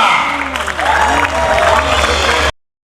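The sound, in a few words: loud audience applause and cheering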